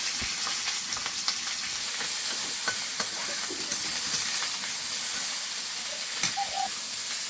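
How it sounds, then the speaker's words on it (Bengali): Ginger, garlic and green chili sizzle steadily in a hot pan with oil, under continuous loud frying hiss and occasional spatula scrapes from stirring. "এর মধ্যে একটু আদা রসুন আর কাঁচা লঙ্কা সব দিয়ে দেবো"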